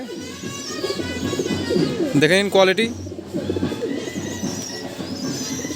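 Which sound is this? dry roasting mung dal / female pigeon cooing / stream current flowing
female pigeon cooing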